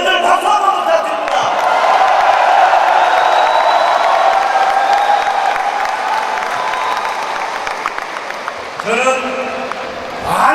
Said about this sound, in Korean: 여러분들 박수 한번 부탁드립니다